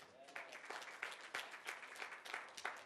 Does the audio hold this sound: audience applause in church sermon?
yes